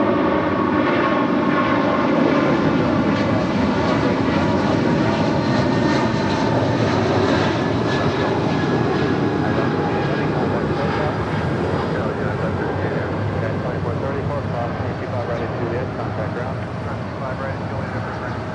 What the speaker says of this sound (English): United Airlines flight 1158 heading to Honolulu, and a 777-200 is our next departure here on the south side at 25 right.